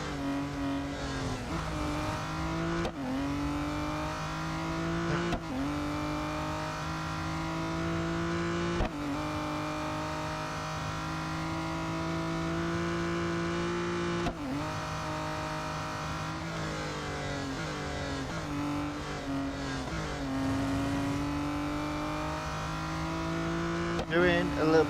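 A V12 race car in the video game Real Racing 3, engine droning and revving steadily through repeated gear shifts, loud and continuous with rising and falling pitch, while someone talks over it.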